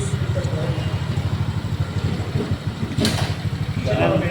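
A motorcycle engine runs steadily after a repair for a knocking problem, its close, loud, even throb continuing throughout, with a brief rev near the end and someone talking over it.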